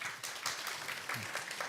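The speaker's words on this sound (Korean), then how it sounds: "책임 연구원님을 따뜻한 박수로 맞이해 주시길 바라겠습니다" Audience applause at an international symposium on crop wild relatives welcoming a rice research speaker, quiet and somewhat distant clapping with uneven bursts, low in level.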